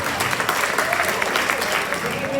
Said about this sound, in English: big round of applause and thank you to Dorian's